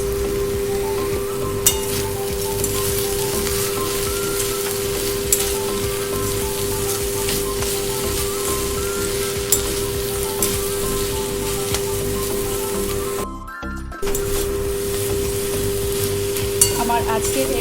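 Green chilies and a pinch of sugar are fried and stirred into a Bengali shak chorchori of leafy greens, with a continuous close sizzle and scraping of the spatula, a brief pause near the end, and no talking.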